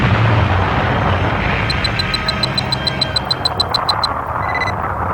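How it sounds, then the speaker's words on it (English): The starship Enterprise explodes in a toy-movie staging of Star Trek III: a loud, sustained roaring rumble fills the whole stretch, joined midway by a rapid series of high, bright electronic chirps that fade near the end. "And then, a tremendous explosion."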